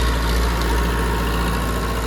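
A Digitrac PP 46 tractor engine drones steadily and close while pulling a 16-disc harrow through a wet field, a continuous low rumble with no talk over it.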